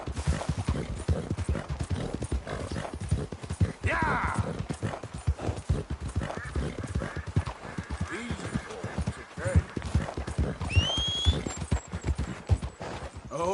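Horse hooves gallop in a fast, steady clip-clop rhythm in a video game, with a brief whinny, as a person talks briefly over the sound.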